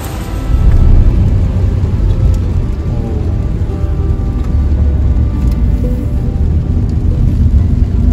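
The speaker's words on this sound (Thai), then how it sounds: "ฝนก็ตกเหมือนเดิมนะฮะ" Steady, dense rain hiss fills the whole stretch, a continuous wash of falling water with a low rumble underneath and no voices.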